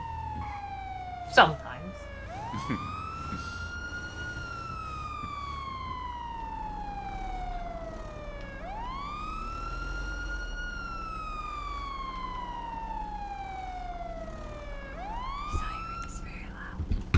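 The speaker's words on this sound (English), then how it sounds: "Sirens very loud." Emergency vehicle sirens in a GTA roleplay game wail in long, repeating rising and falling sweeps. They are loud and steady across the whole stretch, with a brief word spoken under them.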